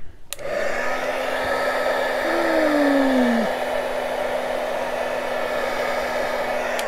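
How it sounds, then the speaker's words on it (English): A home air conditioner kicks on with a click and settles into a loud, steady blowing whoosh with a low hum and a brief falling whine, running continuously and close by with no talk. "of course my air conditioner just starts every single time"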